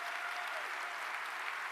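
A keynote audience gives dense, continuous applause. Many hands clap together in a steady wash of sound that holds at an even level throughout.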